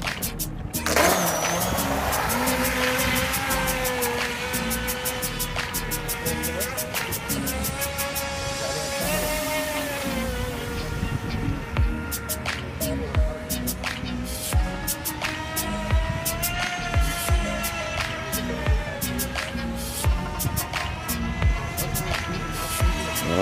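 A Phaelon FT012 RC speed boat runs across open water at Bluffers Park, Toronto, its electric motor holding a continuous high whine that rises and falls with speed, close and steady with choppy water knocks, throughout the run.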